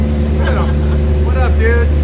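A motorboat engine hums in a loud, steady drone as people talk nearby over the noise.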